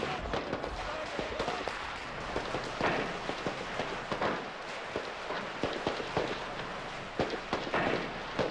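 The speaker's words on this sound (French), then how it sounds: "Soudain, bombes sonores et gaz lacrymogènes éclatent. Ensuite, c'est un long échange de coups de feu." Gunfire and stun grenades burst at the Oka barricades, a rapid run of loud sharp cracks and pops, some near and some farther off, with a constant noisy background throughout.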